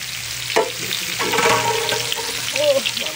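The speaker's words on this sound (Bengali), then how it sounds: "আলুটাও একটু ভেজে নেবো" Potatoes frying in a pan, coated in salt and turmeric, with a steady soft sizzle and occasional stirring scrapes and clinks close by.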